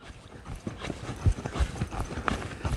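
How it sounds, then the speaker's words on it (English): Horse hooves clip-clop in an extended trot during riding training, a steady, fairly loud rhythm of hoof strikes close by over light ambient noise. "then I'm going to ask for an extended trot"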